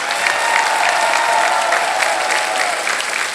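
Studio audience applause on the Hindi quiz show Kaun Banega Crorepati, season 16: steady, dense clapping from a large crowd that holds at an even level from start to finish, with no voices over it.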